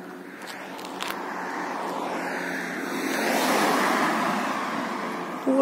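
A car passes along a quiet residential road in the US, a steady whoosh of tyres and engine swelling gently and fading, with no voices around.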